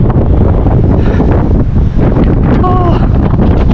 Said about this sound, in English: Honestly, that wind needs to do one.